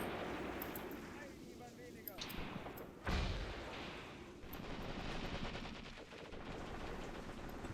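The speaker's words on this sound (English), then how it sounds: "Somebody still seems to be chucking grenades." Grenades explode during a Graviteam Tactics battle. One sharp, loud blast stands out amid a continuous crackle of distant gunfire and rumbling combat noise.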